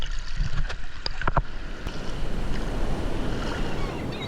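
Ocean waves wash and rumble nearby on a tropical island shore with gusting wind noise, a few sharp knocks early on, then a steady surf roar.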